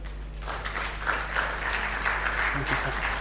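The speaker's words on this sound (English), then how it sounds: "A round of applause for Professor Mohammed Raji." An audience at a conference event applauds for a guest professor, with a moderate, steady patter of many hands clapping that is fairly close and carries on for several seconds, with a voice faintly underneath.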